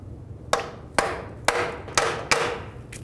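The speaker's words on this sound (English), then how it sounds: "use the head of that bolt to hammer on it" Five sharp metallic hammer blows land on a bolt head, about half a second apart, driving out a seized starter on a 2003-09 Toyota 4Runner; each strike is crisp and close with a short ringing decay.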